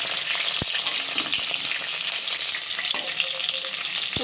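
Pointed gourd (potol) frying in a pan, a dense steady sizzle with crackling spatter throughout and a couple of soft utensil knocks, close and loud.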